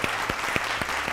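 Studio audience applause on an Iranian Nowruz special episode of the TV quiz show Az Ki Boporsam, a steady dense clapping with a few sharper accents, filling the whole short moment with no speech.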